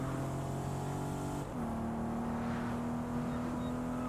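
A Bentley engine in the racing game Test Drive Unlimited Solar Crown hums at a steady pitch, dips briefly, then holds a smooth, sustained drone with a faint synthetic game-like quality.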